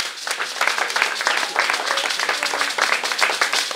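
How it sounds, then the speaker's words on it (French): Dense, continuous applause from a festival show audience in Ouidah, Benin, many hands clapping close and loud for the whole stretch. "Applaudissez encore pour vous."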